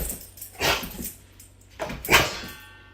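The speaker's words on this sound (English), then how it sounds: "Are you gonna learn how to bark normal one day, or like you just gonna keep doing that?" A dog lets out odd, strained bark-like yips and whimpers in two bursts, close by, over a low steady background hum.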